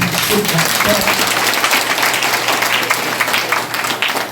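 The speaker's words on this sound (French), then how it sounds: "s'il mérite d'être applaudi, il faut l'applaudir" Audience applause at a graduation ceremony where someone is speaking, a dense, steady wash of clapping from a crowd that holds at an even, loud level throughout.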